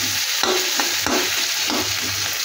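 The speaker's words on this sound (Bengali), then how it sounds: "তো এটা ভাজা হচ্ছে" Food fries in a pan with a loud, steady close sizzle, broken by a few quick stirring scrapes, and no one speaks.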